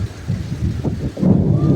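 Loud low rumbling of thunder rolls through with rain noise, swelling toward the end.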